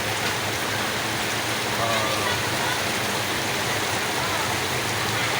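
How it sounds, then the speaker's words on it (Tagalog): Heavy rain pours onto a flooded street where vehicles, sidecars and motorbikes wade through the water, making a dense, steady roar of loud, close downpour that fills the whole stretch without a break. "Tindi talaga ng ulan guys."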